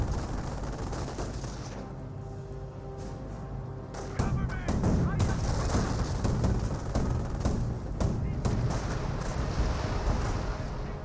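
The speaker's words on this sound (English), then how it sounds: "Live barrage running on in." Artillery barrage in the World War II strategy game Company of Heroes, with a dense run of rumbling blasts and crackling impacts that swells after a steadier stretch and keeps pounding under a voice talking.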